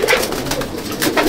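Madrasi pigeons of the Abluk breed coo loudly and up close, with repeated throaty calls rising and falling across the moment.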